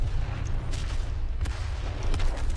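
Ship cannons fire in the naval combat game From the Depths, a series of dull, booming shots over a constant low rumble of battle.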